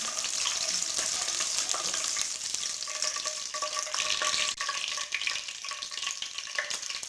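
Green cardamom pods and two pieces of bay leaf warming in a pan, giving a soft, steady sizzle and crackle with light scraping, fairly faint and without voices.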